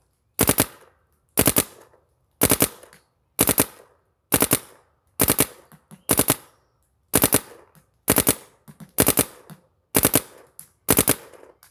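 A Dye DAM paintball marker fires in 3-round burst mode outdoors at a tire target. About a dozen sharp, loud bursts, each a tight cluster of rapid pops, come at roughly one-second intervals with silence between them and no voices.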